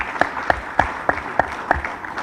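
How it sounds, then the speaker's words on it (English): A handful of people clap in a slow, steady rhythm of distinct claps about three per second at a business investment launch event in Madhya Pradesh, with no voices over it. "Can we give him a big round of applause for answering all the questions?"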